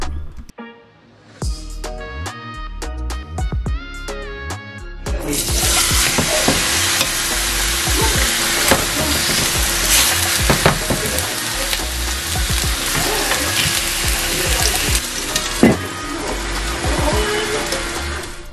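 A few clinks and scrapes of a pan, then loud, steady sizzling as chicken starts frying on medium heat, crackling continuously to the end.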